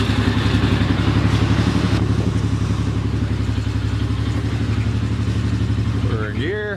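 An ATV engine idles loudly and steadily right after repair work on it, a continuous close-up rumble with a brief rising rev near the end.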